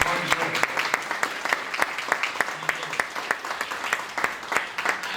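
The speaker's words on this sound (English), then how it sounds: "give this gentleman a big, big round of applause" A crowd claps steadily in sustained applause, dense and lively, with individual sharp claps standing out near the front.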